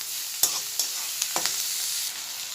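Chopped ginger, green chilli and garlic fry in hot oil in a pan, giving a steady close sizzle broken by a few sharp scraping stirs, with no voices.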